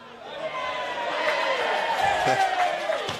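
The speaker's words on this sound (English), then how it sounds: "a cheer from the Greece supporters as Alex Arunas finds touch" Greece supporters at an Emerging Nations rugby match, Greece against Hungary, raising a distant crowd cheer that swells and holds beneath a commentator's voice.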